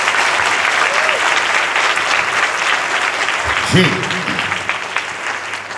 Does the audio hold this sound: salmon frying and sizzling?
no